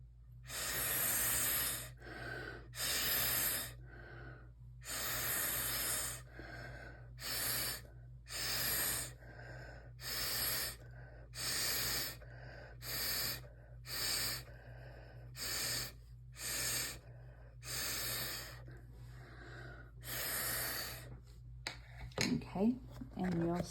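Repeated short puffs of breath blown through a straw to push wet watercolor paint across paper, a steady series of close, breathy bursts separated by brief pauses.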